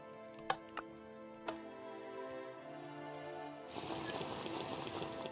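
Running water from a kitchen tap in the Minecraft video game, a bright steady hiss that starts abruptly after a few soft clicks and continues alone at moderate loudness.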